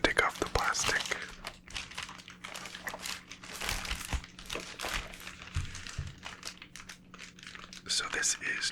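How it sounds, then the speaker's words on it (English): Plastic wrapping is peeled and crinkled off a Hot Toys Anakin Skywalker action figure box, with close, crisp rustling and tearing in bursts under soft whispered talk. "let's go ahead and take off the plastic"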